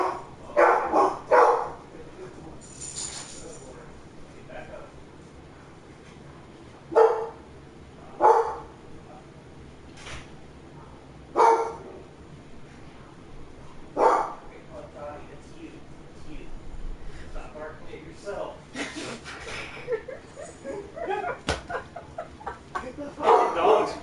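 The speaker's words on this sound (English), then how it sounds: "It comes out of the computer and then she barks back at it." A dog barks back at sounds coming from a computer, giving short sharp barks in scattered bursts over a long stretch, while people talk and laugh nearby.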